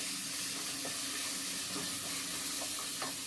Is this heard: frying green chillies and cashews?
yes